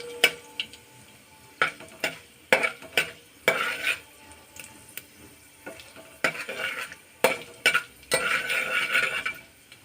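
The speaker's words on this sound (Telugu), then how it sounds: "ఆవాలు, జీలకర్ర చిటపటమన్నాయండి." Mustard and cumin seeds spatter and crackle in hot oil, with irregular sharp pops and sizzling bursts alongside a utensil scraping the pan.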